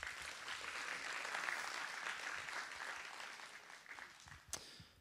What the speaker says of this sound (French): Merci, vous pouvez l'applaudir.